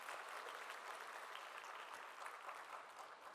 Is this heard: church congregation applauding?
yes